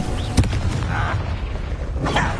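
A spell blast in Hogwarts Legacy lets off a short booming burst, followed by softer rumbling whooshes and another flare of noise near the end.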